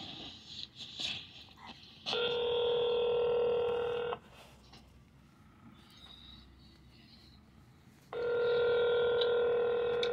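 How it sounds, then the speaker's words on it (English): Phone call placed through Google Voice: two long, loud steady ringback tones with a pause between them, after a burst of touch-tone dialing beeps at the start. "Google Voice will try to connect you"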